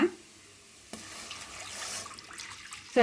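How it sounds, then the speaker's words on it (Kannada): Water poured into a pressure cooker over washed lentils, a soft, faint rushing stream lasting about two seconds between sharper knocks at the start and end. "ಇದಕ್ಕೆ ಇವಾಗ ನೀರು ಹಾಕ್ಕೊಳ್ಳೋಣ."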